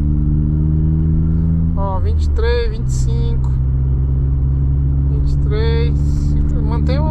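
Steady low engine drone of a car being driven with the air conditioning switched on, running continuously through the clip beneath someone talking.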